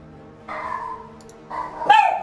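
A dog barks indoors close by, two sharp bursts about a second apart with a whimpering tone, heard alone without talk.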